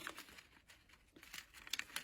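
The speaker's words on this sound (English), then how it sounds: "Now I'm folding up to the other tip." Origami paper being folded into a Christmas tree shape, with soft crinkling and creasing rustles, close and faint, and a few sharper crisp crackles near the end.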